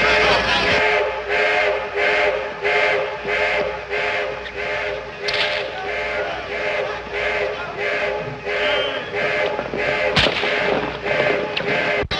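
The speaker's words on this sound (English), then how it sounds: "Somebody else shooting?" Gunfire in an old western film, a rapid string of regular sharp shots repeating over several seconds, loud and close, with one especially sharp crack near the end.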